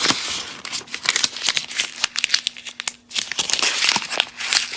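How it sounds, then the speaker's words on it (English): Frayed craft material crinkled up by hand close to the mic, a dense, continuous run of crackling and rustling bursts with brief pauses, no talking. "I think I'm going to crinkle this up in my hands like so."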